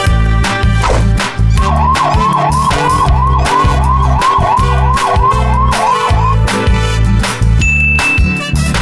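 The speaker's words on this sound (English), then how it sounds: "Police car." A toy police siren wails in a fast repeating up-down pattern over loud, thumping electronic music, close and harsh.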